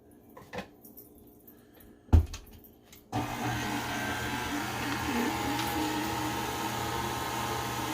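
An electric mixer starts up after a few clicks and knocks, then runs steadily and fairly close, beating butter, sugar and flour with a constant whirring drone.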